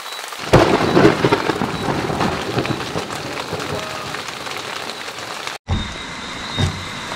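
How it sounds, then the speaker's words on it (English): A thunderstorm in rural Jamaica: heavy rain pours steadily while a low thunder rumble rolls underneath, then a brief cut is followed by more rain and a soft distant boom. "Big thunderstorm."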